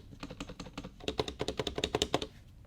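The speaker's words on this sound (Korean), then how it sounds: "이렇게 한번 일반 버전 타이핑을 해봤는데요." Fast typing on a Happy Hacking Keyboard Hybrid, a dense run of clicky keystrokes with a few deeper, hollow spacebar thumps mixed in, close and fairly quiet.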